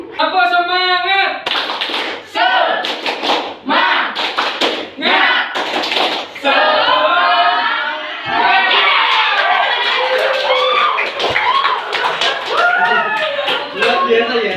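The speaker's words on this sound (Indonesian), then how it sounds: "Dengan tepuk semangat." A classroom of children performing a rhythmic spirit clap in Indonesia, patterned bursts of loud group clapping alternating with chanting voices, close and energetic throughout.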